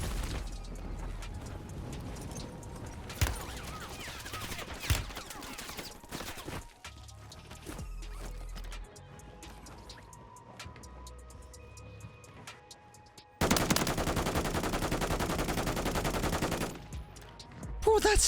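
Submachine gun fire from an HRM 9 in the Warzone 3 video game, with bursts of rapid shots across the clip that come loudest and densest in a sustained volley near the end, mixed with other game sounds.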